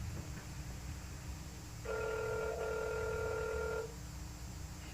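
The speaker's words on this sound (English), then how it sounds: "It's ringing again." A telephone rings on a call line in a paranormal investigation setting, one sustained tonal ring lasting about two seconds over a steady background hum, fairly faint and alone with no talk.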